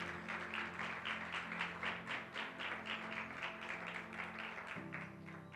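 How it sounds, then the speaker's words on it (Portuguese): Steady applause from a church congregation during a Pentecostal service, dense continuous clapping with a pulsing rhythm over a low background hum and tones, fairly faint and distant. "aplauda ao Senhor."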